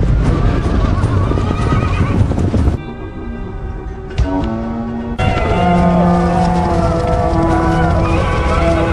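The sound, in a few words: horses galloping, hoofbeats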